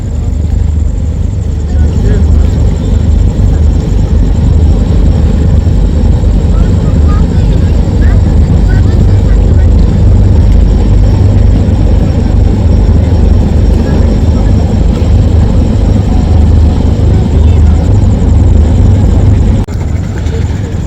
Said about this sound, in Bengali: দশ নম্বর পজিশনে সুন্দরবন পুনর লঞ্চ ছেড়ে যাচ্ছে